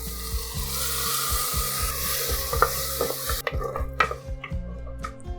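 Onion, tomato and ginger-garlic paste sautéing in a pan for a mushroom and green pea kurma, with steady close sizzling under repeated scraping stirs and occasional sharp clinks of the spoon against the pan.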